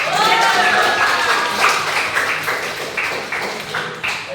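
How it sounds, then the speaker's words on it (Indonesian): Classroom applause during an English lesson, a brisk patter of many hands clapping fairly near, with scattered taps thinning out toward the end under a light hum of the room. "tepuk tangan juga"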